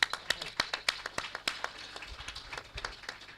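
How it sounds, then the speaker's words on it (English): A small audience at a conference on women's digital inclusion claps, distinct individual hand claps in a loose uneven rhythm, fairly close and quiet, thinning out over a few seconds. "Let's give a round of applause."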